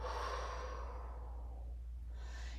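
A slow, soft exhale during guided meditation, breathy and close, fading out over a couple of seconds above a low steady hum.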